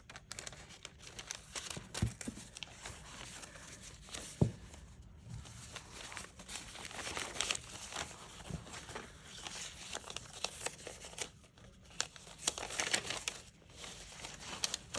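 Thin, almost see-through old Greek paper ephemera and invoices being handled, with soft crinkling, rustling and crackling that come and go in close, quiet bursts.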